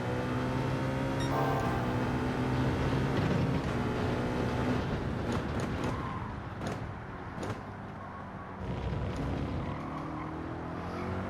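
A race car engine in Gran Turismo 7 at Daytona holds a steady, tonal whine, then drops and stutters into rougher bursts mid-clip before settling again, heard alone.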